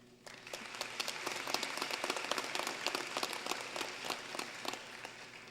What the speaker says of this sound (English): giving a round of applause to the students as well as their friends and family